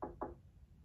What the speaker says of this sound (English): if someone came knocking on your door